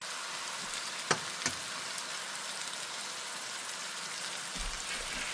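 Taco meat simmers in a pan as tomato sauce is stirred in, giving a steady close sizzle and hiss. Two brief clicks of the utensil against the pan stand out, and a soft low scrape comes near the end.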